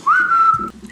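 A single sustained whistled note from a person, steady and fairly loud for most of a second, ending as faint rustling and low background noise take over.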